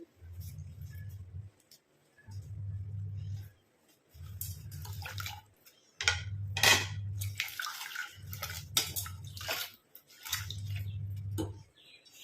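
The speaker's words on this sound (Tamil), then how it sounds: "எல்லாம் போய் நம்ம தண்ணியில் போட்டு நல்லா வாஷ் பண்ணிக்கலாம்" Water sloshes and splashes in short bursts as flowers are swished around by hand, over a low motor hum that switches on and off repeatedly.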